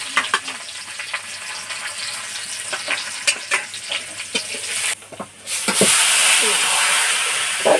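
Cumin seeds and bay leaves drop into hot oil and sizzle, with scattered crackles and stirring clatter. Near the end the sound builds into a loud, steady hiss.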